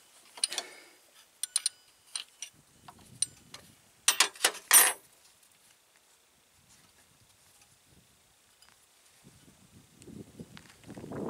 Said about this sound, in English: you can use your 15mm end wrench and slowly tighten it